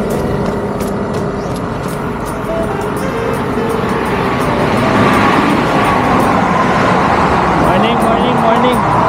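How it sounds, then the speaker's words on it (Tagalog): Fast-moving road traffic passes close by in a loud, continuous roar of engines and tyres that holds steady throughout. "Katakot dito, lalakas ng patakbo ng mga sasakyan."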